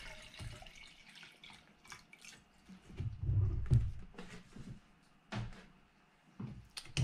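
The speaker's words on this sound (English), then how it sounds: "Then I'm going to put 2 cups of distilled water in my jet boil, my heat source." Distilled water splashes and pours in short bursts into a metal Jetboil camping stove pot, with clinks and knocks in between, fairly quiet and close.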